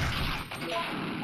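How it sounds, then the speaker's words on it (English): A rocket launcher fires in Resident Evil 3 with a sharp, harsh blast that thuds and crackles briefly, then leaves a rough, noisy tail. "Rocket launcher."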